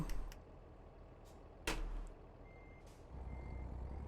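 In American Truck Simulator, a truck's reversing beeper sounds a few thin, spaced beeps over a low engine rumble, with a sharp clunk midway.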